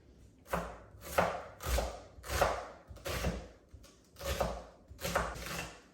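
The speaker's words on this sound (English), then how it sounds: "Okay, so I'm gonna chop this up." A knife chops an onion on a cutting board with a not-very-sharp blade, while a quiche of spinach and beef is being prepared. It gives about eight distinct, evenly spaced thuds, close and clear, with no talk over them.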